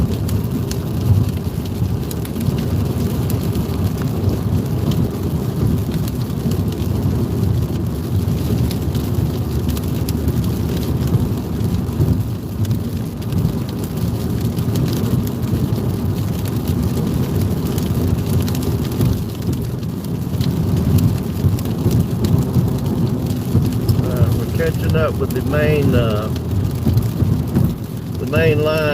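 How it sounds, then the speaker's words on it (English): Steady heavy rain pours during a thunderstorm near Hattiesburg, Mississippi, a dense continuous wash with low rumbling underneath, while a voice talks briefly toward the end. "main line of these thunderstorms going north of Hattiesburg, Mississippi"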